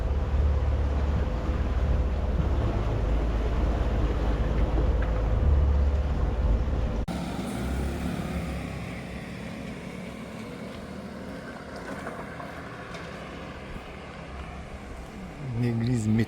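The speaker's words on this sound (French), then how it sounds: "Une arrivée au moteur peu glorieuse, mais pas tellement le choix parce que vent très faible." A sailboat motoring in under engine power in very light wind, a loud low engine drone that drops away partway through, leaving wind, water and speech.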